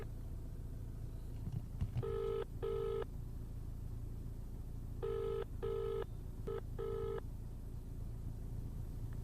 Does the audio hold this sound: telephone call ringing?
yes